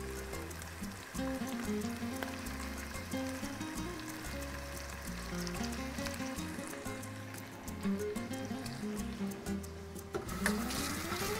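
Garlic in small pieces frying in a pan for pasta with broccoli and sausage gives a steady, close sizzle with scattered crackles throughout, over a low tonal background hum.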